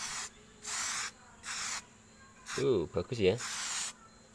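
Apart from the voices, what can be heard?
spray paint can spraying a refrigerator handle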